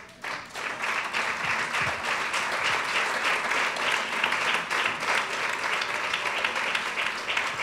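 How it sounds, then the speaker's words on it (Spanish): A church congregation applauds steadily, many hands clapping together in a dense, sustained roar of claps that holds at an even level throughout. "Denle un aplauso, Señor"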